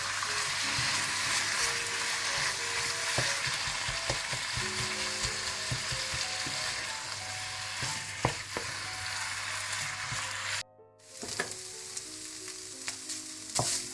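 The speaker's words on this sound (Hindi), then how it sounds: "चिकन डालने के बाद आप थोड़ा सा नमक और 2 टेबलस्पून सोया सॉस डाल दें और इसको अच्छी तरह से आप पका लें।" Chicken frying in a pan with salt and soy sauce gives a steady, bright sizzle with frequent stirring clatter, close and fairly loud, cutting out briefly near the end before resuming.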